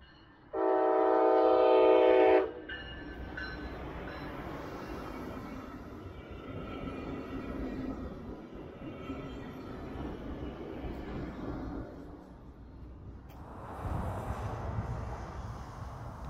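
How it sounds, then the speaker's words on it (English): A Brightline qualification train sounds a loud, sustained horn blast as it approaches the rebuilt Carver Road crossing, then rumbles past with a steady roar of wheels and cars that swells again near the end. "We'll finish with a couple of Brightline qualification trains around the area, starting at the rebuilt Carver Road crossing."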